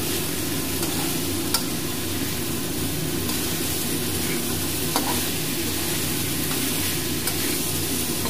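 Chicken pieces with salt are stirred in a hot pan for a banana flower curry, giving a steady, even sizzle broken by occasional faint scrapes and clicks of the spoon against the pan.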